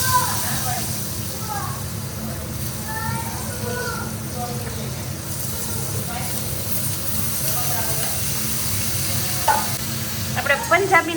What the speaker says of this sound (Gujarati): પછી નાખશું કાંદા.